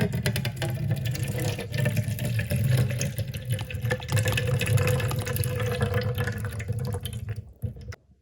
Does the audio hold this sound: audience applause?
no